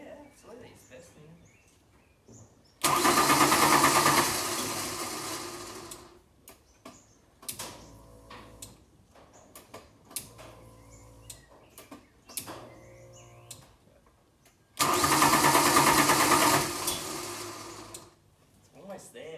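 A 1992 Ford Falcon EB engine cranks hard in two loud bursts of a few seconds each without catching, separated by quieter clicks and shuffling, with people talking nearby.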